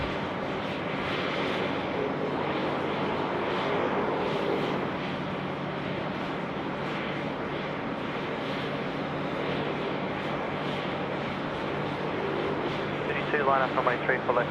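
A China Southern Boeing 787 lands at Sydney Airport, a broad, steady jet roar that swells and eases over time, with a voice talking over it.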